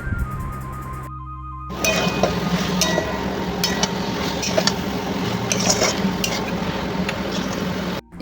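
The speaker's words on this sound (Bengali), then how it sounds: "এরপর সয়াবিনগুলো ভেজানো সয়াবিনগুলো দিয়ে দিচ্ছি" Soaked soybeans go into a pan of cooking spice masala, giving a close, steady sizzle with stirring and scattered utensil clicks against the pan. A brief break near the start is followed by a louder, continuous frying sound, with no talking.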